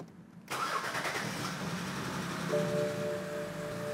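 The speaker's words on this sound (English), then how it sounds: "Now let's go ahead and start her up." A 2011 BMW X3 28i with the N52 engine, just fitted with new spark plugs and coil packs, cranks and fires after a brief quiet start, then settles into a steady, close mid-pitched idle with a slight rev.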